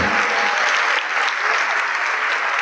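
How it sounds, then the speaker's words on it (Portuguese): A church congregation applauds at a worship service, dense continuous clapping filling the whole stretch at close, loud level with no voices standing out. "Vamos aplaudir ao Senhor Jesus por cada vida que está chegando."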